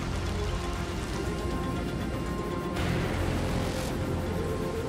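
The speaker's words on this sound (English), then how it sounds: "And now, heavy rain has brought the water level up" Heavy rain pours down outdoors near a river while anglers camp, a dense steady hiss that holds constant throughout with no voices.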